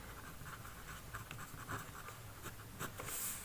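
Pen strokes on paper as a ninth-grade maths answer is written out, giving soft continuous scratching with a few brief ticks; faint and steady, without talk.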